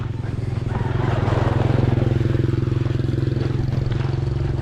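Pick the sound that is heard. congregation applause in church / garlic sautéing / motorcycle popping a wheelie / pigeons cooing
motorcycle popping a wheelie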